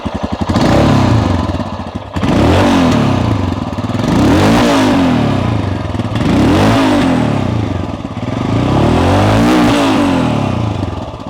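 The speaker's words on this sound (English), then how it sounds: "I would like you to hear the exhaust note," Royal Enfield Scram 411 single-cylinder motorcycle exhaust, loud and close, rising and falling through repeated revs with a throaty thumping note and no talk over it.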